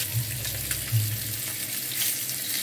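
Pieces of katla fish frying in hot oil in a pan give a steady, soft sizzle with faint bubbling throughout, close by and uninterrupted by voices.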